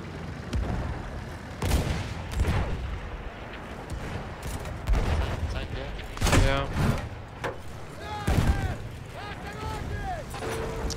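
Battlefield 1 battle gunfire and explosions fill the scene, with repeated booms and shots, and a voice talks over the combat.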